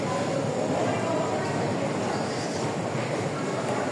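An underground metro train in Singapore gives a steady, loud rumble and broadband roar of rolling cars that stays unbroken throughout, with no clear separate events.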